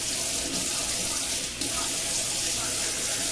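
Tap water runs steadily into a sink as hands are washed with dish soap during Thanksgiving meal prep, a continuous close hiss and splash with a brief dip midway.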